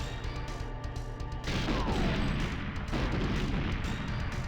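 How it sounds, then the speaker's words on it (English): C4 explosive shot and set off in GoldenEye 007, with a steady low game rumble that gives way to a sudden loud blast, then a sustained roaring explosion and a second surge of noise a little later. "So let's just shoot the C4."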